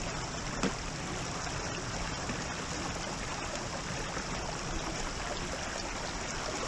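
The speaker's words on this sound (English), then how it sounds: "there's the waterfall" Hideout Hollow Falls pours steadily after several days of weekend rain, a continuous broad rush of falling and flowing water heard from fairly close, with no voices over it.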